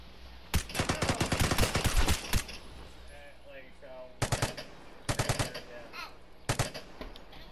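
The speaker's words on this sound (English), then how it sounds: "What do I gotta do with the grease gun?" Grease gun submachine gun fire in the video game Vigor, heard as several sharp, loud bursts of rapid automatic shots separated by pauses, with brief speech between volleys.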